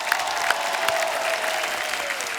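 Applause from an audience at an onstage celebrity event, steady and dense across the whole span, with a faint sustained tone running beneath the clapping.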